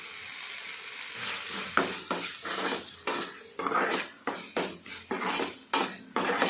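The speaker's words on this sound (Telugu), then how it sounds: "ఉప్పు పసుపు వేయటం వల్ల మనకి తొందరగా వేగిపోతుంది అన్నమాట ఉల్లిపాయ ఆయిల్ సపరేట్ అయిపోతుంది" Sliced onions fry in oil with salt and turmeric for a prawn and drumstick curry, a steady sizzle broken by regular scraping and clinking stir strokes against the pan, close and fairly loud.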